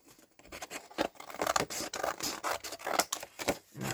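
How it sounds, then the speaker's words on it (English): Scissors snip through a paper file folder to cut the tab off, a close series of crisp, scratchy cutting strokes in uneven rhythm, quiet overall with no voices. "Let's cut the tab off."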